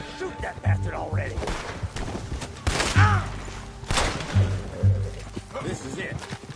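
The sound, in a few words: gunshots, from video game Assassin's Creed Origins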